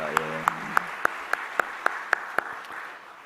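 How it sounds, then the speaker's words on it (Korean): A congregation at a Sunday church service claps in a steady, evenly spaced rhythm of about ten claps, bright and close, over a low background murmur. "여러분 위로 박수 한번 드리면 어떨까요?"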